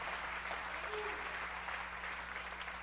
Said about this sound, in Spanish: Dele ese aplauso al Rey en esta linda y preciosa noche.